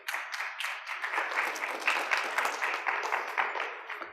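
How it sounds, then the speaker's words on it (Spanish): Applause from a conference audience, a dense steady wash of many hands clapping that holds at an even level for about four seconds, fairly close and without voices. "Por favor, un aplauso, por favor."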